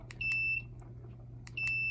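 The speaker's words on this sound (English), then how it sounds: "holding it in will allow the top light and the buzzer to repeatedly beep" A steampunk-styled comedy remote control lie detector's buzzer beeps twice, each a steady high electronic tone about half a second long, repeating over a low constant hum.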